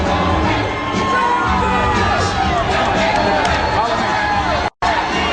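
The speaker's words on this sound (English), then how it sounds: "there is a sizable crowd on hand" A big arena crowd at a heavyweight boxing event, Holyfield versus Cooper, roars and cheers continuously with whoops and shouts amid a constant hubbub, interrupted by a sudden brief dropout before resuming.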